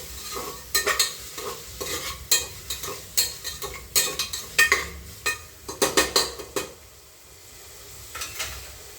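Khichdi with drumstick soup ingredients being mixed in a pan, a run of close scraping, clattering stirs at an irregular rhythm over a low steady sizzle, with no talk.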